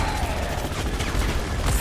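Dense gunfire from a sniper in the video game Overwatch, a steady barrage of loud shots and impacts running throughout, close and busy, with game noise mixed in.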